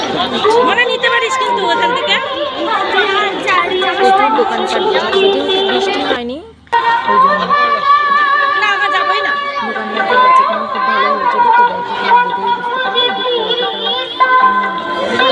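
A dense crowd chatters at a Rath Yatra fair, with many overlapping voices close around and steady throughout, briefly cut by a pause, while a nearby person talks over the hubbub.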